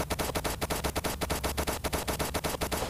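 Rapid automatic gunfire from the Zombie Poly video game, a steady rattling burst of evenly spaced shots running continuously and loudly, with no talking over it.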